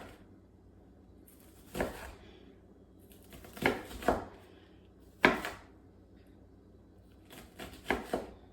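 A knife cuts through vegetables on a board in a series of sharp, separate chops at an uneven pace, close and fairly quiet, with no talking.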